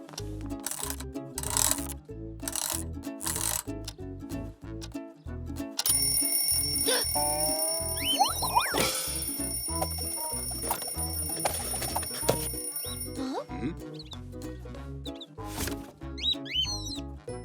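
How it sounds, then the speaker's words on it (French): An old wind-up alarm clock rings in a French children's cartoon, a long, bright metallic ringing that holds for several seconds amid bouncy cartoon sound effects, with short bursts of sound before and after. "Voici mon vieux réveil. Et il marche encore."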